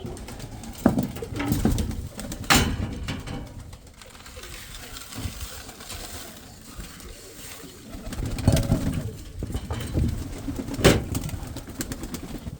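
Pigeons coo softly and continuously close by, low throaty calls rising and falling, with occasional wing flutters and shuffling.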